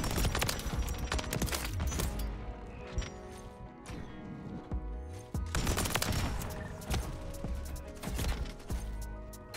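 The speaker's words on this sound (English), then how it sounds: "These guys are low-key shooting and they're coming back a little bit." Rapid bursts of gunfire from the Pulemyot 762 machine gun in the video game Call of Duty MW3 rattle loud and close, in dense repeated volleys with short gaps between them.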